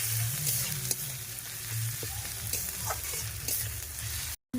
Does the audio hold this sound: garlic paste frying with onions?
yes